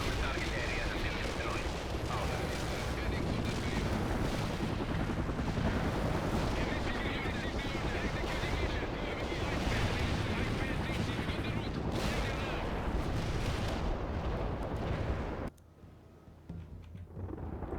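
Constant heavy artillery and gunfire in World in Conflict, dense booming explosions and rattling shots packed together for a long stretch, then abruptly cutting to a quieter rumble near the end.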